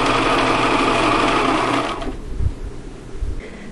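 A sewing machine stitching fabric whirs loudly and steadily up close, then stops abruptly, leaving a few soft low knocks.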